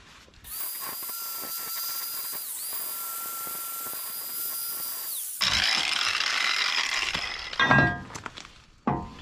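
A power tool whines steadily while tightening a bolt on a trailer, then a harsher, louder burst of grinding and clunks follows, with a few sharp metallic knocks near the end.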